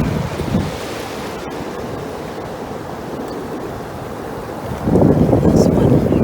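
Ocean surf rushes up onto a beach in a continuous broad wash with wind buffeting the microphone, swelling into a louder surge of incoming water near the end.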